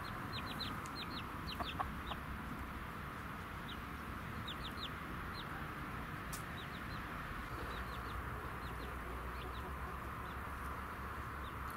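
Hen with chicks in a new chicken coop, clucking softly in repeated short calls over a steady background hum, some distant chirps above.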